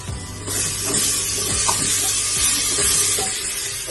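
Ginger garlic paste and turmeric frying in half a bowl of oil for a homemade mutton biryani, giving a bright close sizzle and hiss with stirring clinks and scrapes, no talk.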